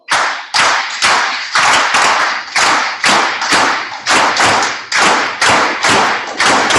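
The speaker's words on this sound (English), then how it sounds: "Let's all clap the gankogui part." Group of people clapping together the gankogui bell pattern of traditional West African drum music, loud, sharp and close claps in a steady repeating asymmetric rhythm, continuous with no talking.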